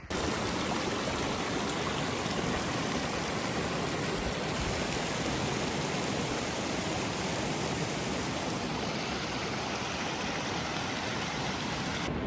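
Steady, full rushing water of a waterfall spilling into a snowmelt mountain stream at Annapurna Base Camp, a dense roar that continues unbroken with no voices.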